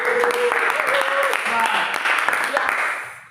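A classroom of university teacher-training students claps for a group that just presented, a short burst of applause with a voice speaking and tonal chatter over it, the clapping fading out toward the end.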